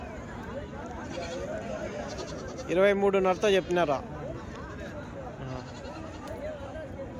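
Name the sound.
sheep and goats bleating at livestock market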